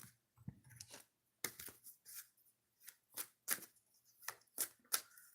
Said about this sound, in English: Gotta shuffle it a little bit.